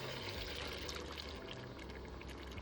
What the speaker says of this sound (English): We are going with a cup of chicken stock.